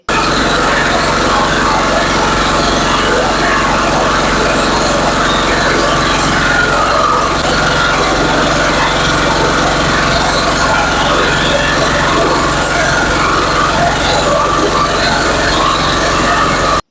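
A paddy husking and rice polishing machine runs continuously, a loud, dense mechanical drone and whir with steady grinding texture and no pauses or voices.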